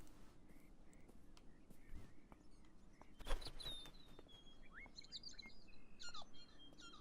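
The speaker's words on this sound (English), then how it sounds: "There's a bird." Birds chirp in the video game Beyond Eyes, with short high tweets scattered over a steady outdoor ambience and growing busier toward the end, fairly faint and with no talk.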